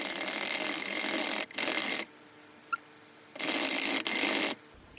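A Loops and Thread knitting machine cranked by hand with yarn gives bursts of loud ratcheting, clicking mechanical noise in several runs, separated by short quiet gaps and a faint click.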